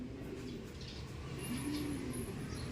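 Racing pigeons coo softly at a loft, low repeated calls over a steady background hum, with no talk.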